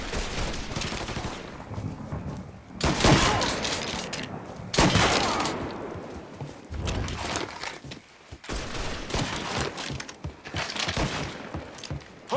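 Bursts of automatic gunfire and single shots from Mafia 3 gameplay come in repeated volleys of rapid cracks, loud and close, broken by short pauses and faint background sounds.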